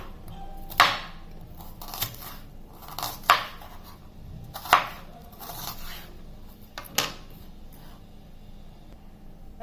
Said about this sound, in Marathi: कांदे आता थोडे मोठ्या साईजमध्ये कट करायचे